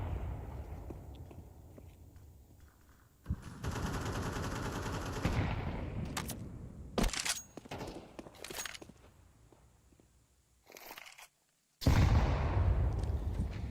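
Gunshots in a competitive Counter-Strike style shooter match, several sharp reports and short bursts amid stretches of footsteps and game noise, some loud and close, others quieter.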